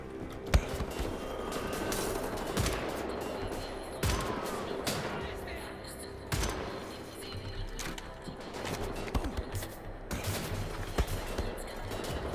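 Enemy gunfire rattles through Wolfenstein: The New Order in repeated loud bursts and sharp cracks, spread across the whole stretch amid busy combat noise.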